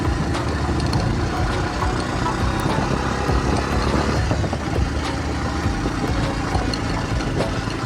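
A motorbike engine idles steadily while parked at a snowy avalanche viewpoint in Kashmir, a constant low rumble filling the whole stretch with no talking.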